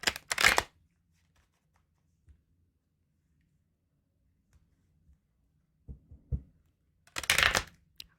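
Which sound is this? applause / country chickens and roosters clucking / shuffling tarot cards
shuffling tarot cards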